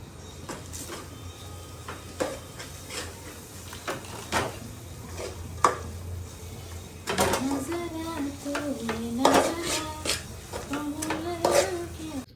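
Chicken biryani masala fries in a pan with soft sizzling and the scrape and clink of stirring. A voice talks over the cooking in the second half.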